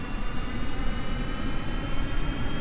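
Engine of a small flying car in Kerbal Space Program throttling up, a steady loud roaring jet-like drone with broad rumble and a high whine, continuous throughout with no talk.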